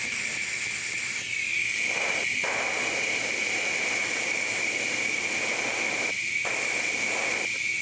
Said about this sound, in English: Clean out the airbrushes again, a little foggy.